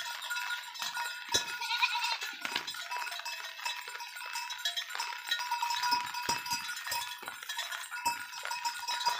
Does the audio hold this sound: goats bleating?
yes